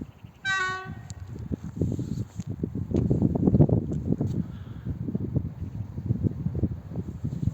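A train passes on the railway line near Pawłowice, sounding a brief horn blast before a loud, close rumble and clatter of wheels and cars that continues steadily, with wind noise over the rolling sound.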